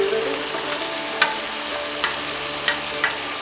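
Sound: diced papaya and potato being stir-fried for shukto

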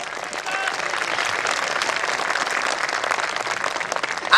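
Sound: audience applause at a Hindi poetry recital

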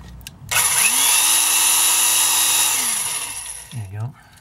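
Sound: drill with depth stop drilling Hot Wheels car

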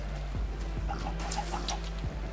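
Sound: chickens clucking in Minecraft video game

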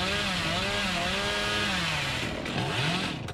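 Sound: chainsaw in the video game Dead by Daylight

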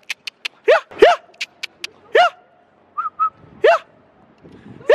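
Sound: dog barking

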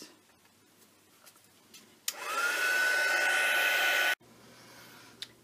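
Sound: heat tool or hair dryer drying acrylic paint

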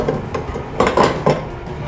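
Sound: squid being pan-fried in olive oil

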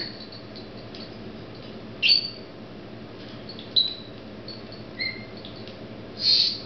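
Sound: bird squawking

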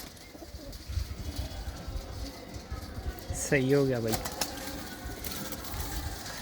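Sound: pigeons cooing

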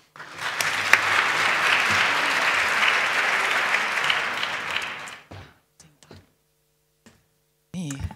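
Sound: conference audience applause

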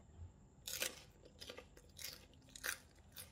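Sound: crunching while eating som tam with crispy pork rind

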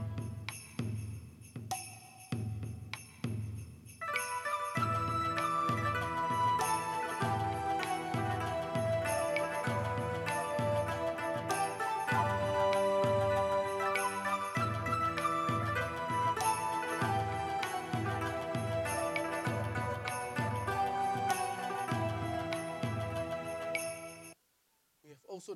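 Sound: ethnic instrument sounds on a Korg Krome synthesizer

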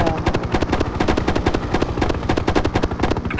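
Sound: enemy ground fire in video game Hind 1998

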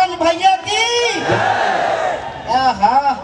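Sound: concert crowd shouting chant for singer

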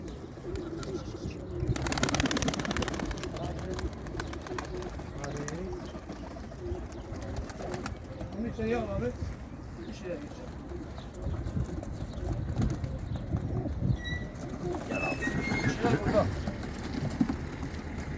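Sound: pigeons cooing in a coop

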